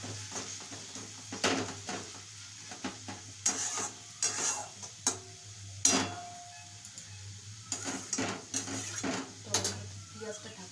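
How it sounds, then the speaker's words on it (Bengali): Onions fry on low heat while a utensil stirs and taps against the pan, making scattered clinks and scrapes over a soft sizzle and a low steady hum. "কম আঁচ দিয়ে পেঁয়াজটা এবার ভাজতে হবে"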